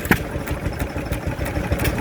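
A small 1920s American open-crank Bulldog stationary engine runs nearby, a quick regular chuffing beat with light mechanical clatter at a modest level and no voices.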